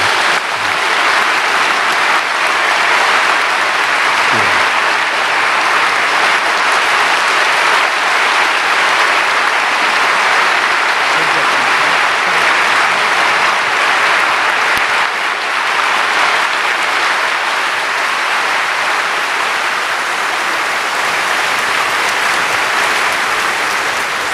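Sustained church audience applause greets a guest professor invited up for an evening worship testimony and performance, steady dense clapping that fills the room for the whole stretch without pause, with no talking over it.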